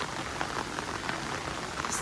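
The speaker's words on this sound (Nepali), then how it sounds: "पानी निरन्तर रूपमा परिरहेछ एकदमै।" Steady rain falling on a hike near Shivapuri, a dense even patter of drops on surfaces that holds constant and close for the whole stretch, with no voices.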